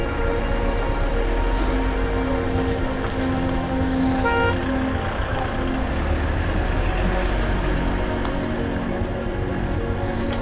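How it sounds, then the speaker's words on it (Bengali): Traffic grinds up a steep mountain road on the Yamunotri to Gangotri route, with steady engine rumble from cars, buses and trucks, and horns tooting now and then. "এই গাড়িগুলো সব উঠছে যাচ্ছে,"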